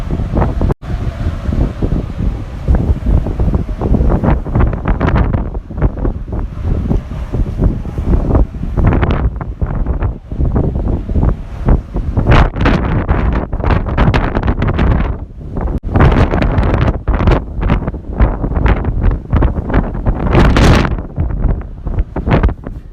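Strong wind at Sumburgh Head, Shetland, blasts the microphone in loud, irregular gusts, heavy low rumbling buffets surging and dropping over a long stretch on an exposed headland.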